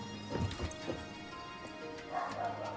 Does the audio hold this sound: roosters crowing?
no